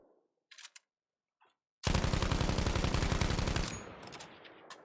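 Rapid automatic gunfire from the Battlefield V video game erupts after a few faint isolated shots, a loud sustained burst lasting about two seconds before tapering into echoing tails and a couple of trailing pops.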